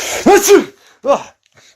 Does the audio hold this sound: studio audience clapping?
no